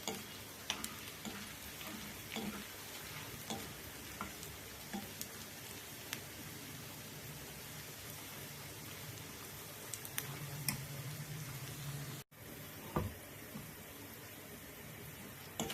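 Cashews and asafoetida frying in a pan for temple-style pongal, giving a low, steady sizzle with scattered small ticks and pops, faint and continuous.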